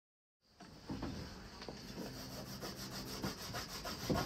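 An old kitchen knife is worked against polishing compound with steady, quiet rubbing and scraping strokes, a soft, continuous abrasive hiss that starts abruptly after a brief silence.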